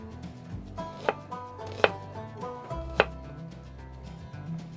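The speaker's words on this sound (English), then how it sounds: "And I'm just cutting them in moons." A knife chops through onions on a cutting board, three distinct sharp knocks spaced about a second apart over a soft background, close and quiet, with no talk.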